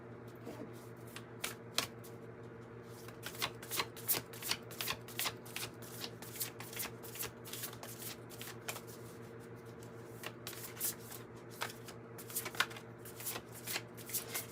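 Close, quiet riffling and flicking of a Moonology manifestation oracle card deck as it is shuffled, with rapid repeated card snaps over a low steady background hum.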